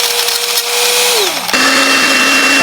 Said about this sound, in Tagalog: inilagay ko dito sa may chopper na kasama nitong blender na 3-in-1